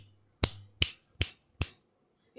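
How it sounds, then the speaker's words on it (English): Four crisp finger snaps, evenly spaced about every 0.4 seconds, sharp and close in a quiet room during a classroom sound check, with a faint low hum under the first few. "I'll be snapping once."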